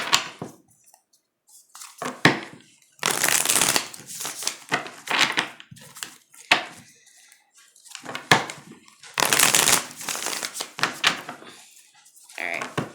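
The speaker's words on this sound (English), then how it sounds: "One more shuffle." Tarot cards are shuffled up close in irregular bursts, papery riffles and slaps separated by short quiet gaps.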